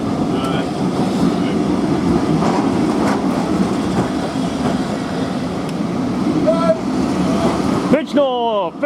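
Steam locomotive A1 60163 Tornado and its coaches rolling into Bridgnorth station with a rhythmic clatter of wheels on rail joints. Brake squeals come near the end and voices talk over it.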